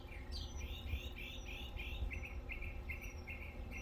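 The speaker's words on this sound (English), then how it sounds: "the birds are very happy." Garden birds near a small feeding area chirp in a steady run of quick, repeated high tweets over low background rumble, fairly faint and with no one talking.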